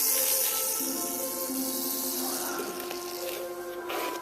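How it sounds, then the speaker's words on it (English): Carpet foam cleaner sprayed from an aerosol can inside the bellows of an accordion during repair and cleaning, a steady close hiss that runs for about four seconds with slight variations in intensity. "so we spray inside here"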